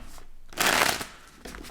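A deck of tarot cards being shuffled for a reading, a short riffling burst of papery flutter close up, then a quieter card tap and slide.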